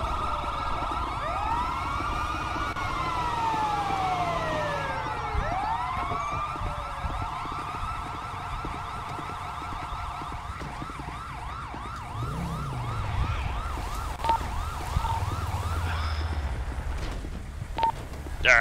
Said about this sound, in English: Everybody do a siren check.